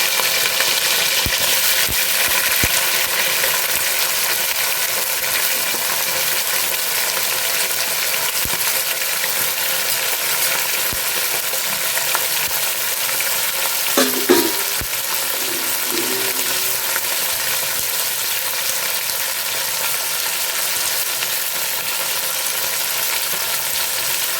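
Dried fish frying in oil for a tomato curry, a steady, fairly loud hiss and crackle that runs unbroken throughout, with one brief clink partway through and no talking.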